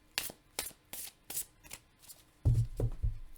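Tarot cards being shuffled by hand: a quick series of crisp riffling flicks, then a few heavier thumps as the deck is squared, close and fairly quiet with no talk.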